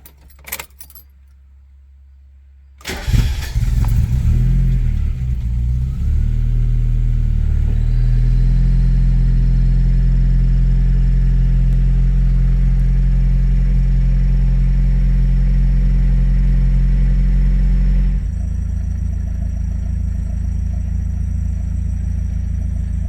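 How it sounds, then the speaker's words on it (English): A Mazda Miata cold starts after sitting two months: a faint jingle of keys, then the engine cranks and catches, settling into a loud, steady idle with a deep rumble that drops slightly late on. "I'm gonna go ahead and play a cold start clip after the car has been sitting for 2 months"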